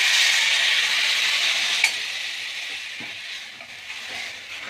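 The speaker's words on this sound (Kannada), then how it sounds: "ಸ್ವಲ್ಪ ಫ್ರೈ ಮಾಡಿದ ನಂತರ ನಾನು ಇದಕ್ಕೆ ಒಂದು ಲೋಟ ಹಾಲನ್ನು ಸೇರಿಸ್ಕೊತಾ ಇದ್ದೀನಿ" A glass of milk is poured into spice powder frying in a pan, bringing a loud, hissing sizzle that gradually softens as the liquid settles, with a single clink partway through.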